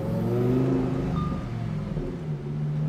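Lamborghini engine revving hard through a downshift, a loud, close, low rumbling growl that surges and dips over a few seconds with no talk over it.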